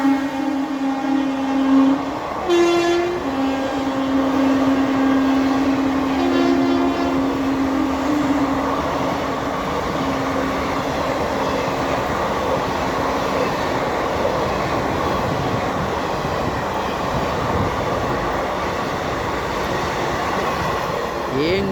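A passenger train rolls past at Ghatkesar, sounding a loud steady horn blast for the first few seconds, followed by a shorter second blast, over a continuous close rumble and clatter of wheels that lasts throughout.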